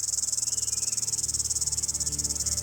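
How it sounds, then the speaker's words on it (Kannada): Continuous high, pulsing drone of a cicada-like insect calling from trees in a forest, steady and loud with a rapid even rhythm throughout and no voices. "ಅದುವೇ ಜೀರುಂಡೆ"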